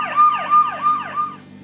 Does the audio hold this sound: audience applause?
no